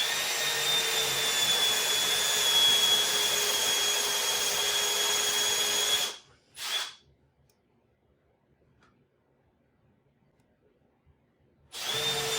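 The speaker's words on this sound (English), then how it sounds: "I need to make sure I countersink them. So I'm putting a countersink below the surface." A power drill countersinks screw holes in wood for a Christmas tree tray, running as a steady whine for about six seconds before stopping, followed by a brief burst and near silence, then starting again at the very end.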